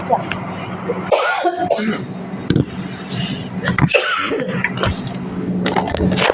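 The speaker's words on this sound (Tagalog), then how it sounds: "inubo-ubo na tayo." A few rough coughs and throat-clearing bursts break through a noisy indoor background, close by, among scattered voices and clatter.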